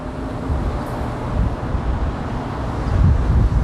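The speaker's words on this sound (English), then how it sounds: "And we also have constantly lots of cars, you know, driving in, and wind noise." Outdoors, wind rumbles against a budget condenser microphone while traffic drones nearby. The wash is steady and fairly loud, swelling slightly toward the end, with no one speaking.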